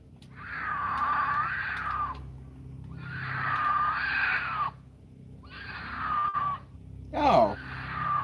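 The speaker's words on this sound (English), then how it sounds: "these noises were coming from an animal, more specifically a mountain lion" Mountain lion screams in a wilderness setting: three long, wavering high-pitched wails, each a couple of seconds long, followed by a sharp rising shriek, loud and fairly close with brief pauses between calls.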